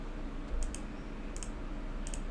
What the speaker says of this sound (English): I'm typing that in the wrong place